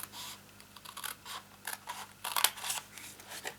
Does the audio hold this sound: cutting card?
yes